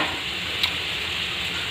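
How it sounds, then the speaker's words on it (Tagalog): A pot of tamarind and tomato soup boils on the stove with a steady, even bubbling hiss, close and constant, with no voices. "so kumukulo na"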